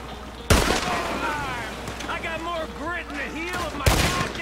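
Gunfire in Red Dead Redemption, two loud sharp gunshots a few seconds apart, with someone talking between them.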